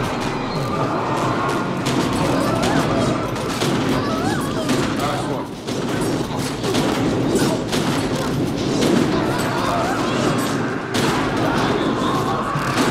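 Sustained heavy gunfire in the video game The Secret World during a dragon intro battle, dense overlapping shots and bursts running loud and continuous for the whole stretch, with game noise layered underneath.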